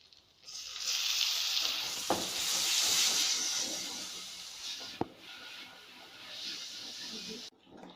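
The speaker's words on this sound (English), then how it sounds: "now once the ginger garlic paste is fried" Ginger garlic paste sizzles and fries in a pan with spices for egg fried rice, a steady bright crackle that swells and fades, punctuated by a couple of sharp clicks of a utensil.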